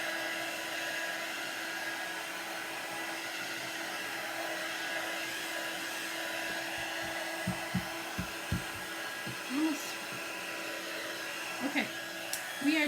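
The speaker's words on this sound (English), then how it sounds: "it is called a heat tool. This one is by Recollections." Recollections heat tool blowing hot air to dry chalk paste, a steady, even whoosh holding for the whole stretch, with faint thumps and scattered short sounds near the end.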